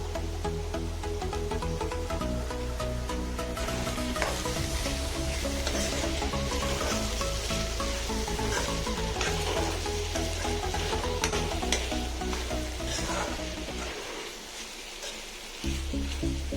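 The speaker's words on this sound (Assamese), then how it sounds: "টমেটো চচখিনি দি মই ভালদৰে এনেকৈ লাৰি ল'ম।" Pointed gourd and cabbage frying with tomato sauce, stirred in a pan: a continuous close sizzle with repeated scraping and clinking of a spoon, easing briefly near the end.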